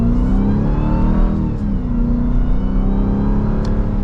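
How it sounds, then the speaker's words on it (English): A supercharged engine in a 2023 Dodge Durango SRT Hellcat revs loudly and steadily, its deep, sustained drone swelling and easing slightly, heard up close with no talking. "this engine seems to just want to rev, and even in automatic mode, barely giving a gas, it wants to kind of rev higher"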